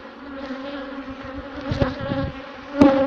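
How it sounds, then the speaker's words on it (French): Dense, steady buzzing of a honeybee cluster building wax comb on a hive frame, close and continuous, with a few louder swells as bees pass near. "les abeilles qui font la grappe, et elles sont en train de continuer à construire le reste."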